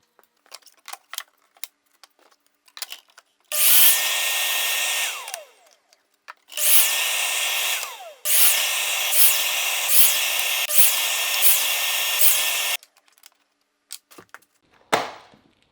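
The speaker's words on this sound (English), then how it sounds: "I have a miter saw, so I am going to cut this with a miter saw" A miter saw cuts plywood in three loud, sustained bursts, each spinning up with a roaring whine and then stopping, with clicks and handling knocks in between and one short final thump.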